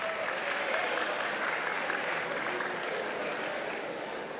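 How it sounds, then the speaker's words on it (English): Audience applause at a high school simulated national convention, honoring a JROTC security guard serving as Sergeant at Arms; steady, dense clapping from a large crowd fills the room throughout at an even level, tapering slightly near the end. "Give a big round of applause for the security guard, Sergeant at Arms"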